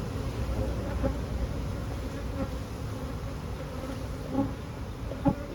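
A honeybee swarm fills the air with a steady, droning hum of many wings, close and continuous, with a few louder buzzes passing near.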